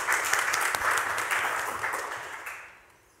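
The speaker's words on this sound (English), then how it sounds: "Give me a round of applause." A hustings audience gives a round of applause, steady dense clapping from a crowd that holds for over two seconds and then fades out toward the end.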